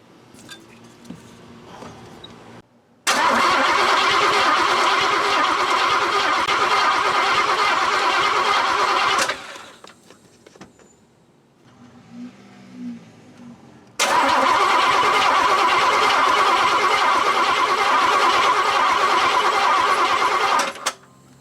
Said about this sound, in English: So now I'm going to try and prime the oil system again with the charged up battery.